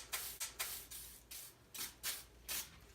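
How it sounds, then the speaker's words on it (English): Degreaser sprayed onto AR-15 parts in repeated short hissing bursts, about eight quick spritzes at an uneven rhythm, close and fairly quiet. "So now I'm actually going to degrease it with some degreaser"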